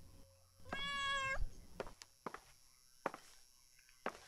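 A cat in the horror game Layers of Fear lets out a single clear, drawn-out meow up close, followed by a few soft, scattered footsteps in a quiet room.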